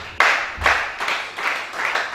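Congregation applauding during a prayer vigil, several bursts of clapping in an irregular rhythm, moderately loud and close, with no talking.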